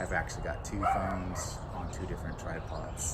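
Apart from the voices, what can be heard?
dog barking outdoors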